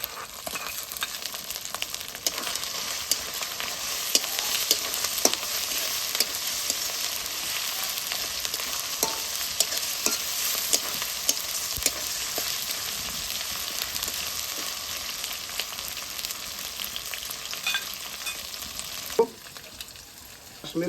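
Chopped tomato sizzling in a pan of frying mutton masala, a steady broadband hiss with frequent soft stirring clicks and scrapes throughout, close and loud, ending in a brief louder clatter.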